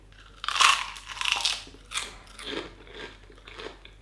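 Loud, crisp crunching bites on pork rinds close to the ear, a few sharp crackling bursts followed by softer chewing crunches, with no talking.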